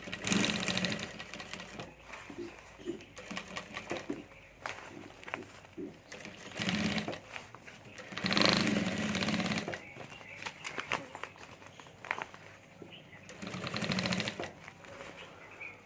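A sewing machine stitches a handbag in repeated short, rapid runs with pauses between them, close and clattering, and no voices.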